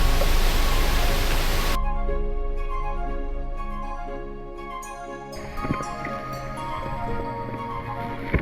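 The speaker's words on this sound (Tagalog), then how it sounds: "Dito Mabo Falls ay kilala sa tawag na Mother Falls, isa sa kilalang natural na atraksyon sa San Luis, Aurora" Ditumabo Mother Falls, a waterfall in San Luis, Aurora, roars as steady broadband rushing water. The roar is loudest at first, then drops into a softer wash with some tonal music-like layers over it.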